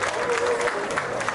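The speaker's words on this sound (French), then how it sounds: "Est-ce qu'on peut applaudir très fort?" Audience at a community association gala in Canada applauding loudly for an artist, a dense steady wash of clapping and crowd noise throughout.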